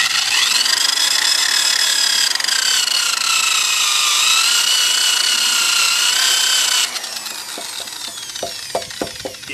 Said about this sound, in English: you can use the eraser wheel to get off all the stuff.